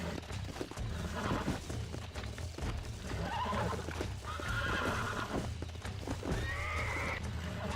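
In the video game Red Dead Redemption, a horse whinnies repeatedly over steady clip-clopping hooves, close and fairly loud, with a continuous low background rumble.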